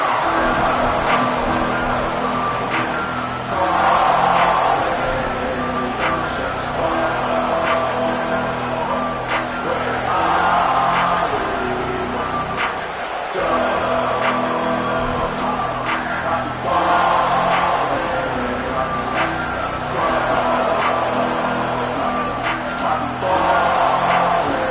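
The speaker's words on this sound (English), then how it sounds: "This crowd ready to make its presence known" Stadium crowd noise from the College Football 27 video game, a steady loud roar of fans with swelling cheers and chants filling the whole stretch, no clear pauses.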